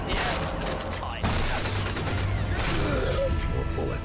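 Dense, continuous gunfire from Sniper Elite 4 crackles loudly and close, with rapid overlapping shots and mechanical clatter filling the few seconds.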